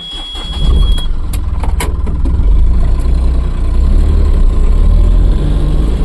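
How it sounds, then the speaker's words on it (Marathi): A truck on a morning drive from Kankavli toward Goa, its engine giving a steady, loud mid-range rumble with road noise throughout after a brief quieter start. "जरा पळवतो गाडी"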